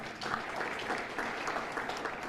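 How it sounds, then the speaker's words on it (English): A room full of people applauds a former commissioner at a speaker's announcement event, steady dense clapping held at moderate volume for a couple of seconds. "Let's give him a round of applause"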